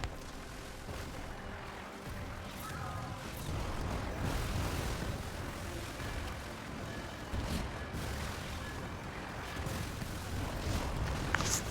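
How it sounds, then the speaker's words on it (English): Mortars and cannons from a fort in the pirate naval game Skull and Bones pound steadily in a dense, continuous barrage of booms and rumbling blasts, loud and sustained throughout. "you know about the mortars that it's going to fire and the cannons it's going to fire"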